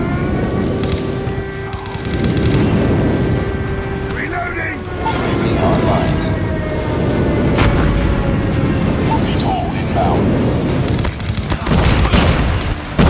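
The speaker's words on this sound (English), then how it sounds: "Friendly airstrike incoming." Airstrike explosions rumble through a Call of Duty Mobile ranked match, heavy booms and gunfire layered over sustained battle noise, with game voice callouts speaking over the action.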